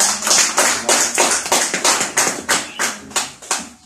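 A church congregation claps in praise during a sermon, a close series of about a dozen sharp, rhythmic claps at a steady pace with no talk over them.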